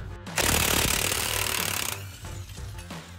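A pneumatic impact wrench hammers loudly and close for about a second and a half, removing a 21 mm shock absorber bolt on a RAM 1500, then sputters in a few shorter bursts.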